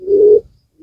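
A domestic pigeon gives a single low, throaty coo close by, a soft rounded hum lasting under half a second, followed by a faint brief murmur.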